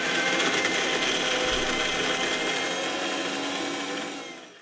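Masala of tamarind juice, jaggery and garlic ground in a kitchen mixer, a loud, steady, high-pitched motor whine that runs continuously and winds down at the end.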